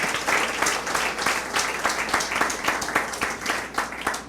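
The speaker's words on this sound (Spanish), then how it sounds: "Dele un aplauso, Señor." Congregation applauding during an Easter resurrection service in a church, rhythmic clapping with regular beats that continues steadily throughout.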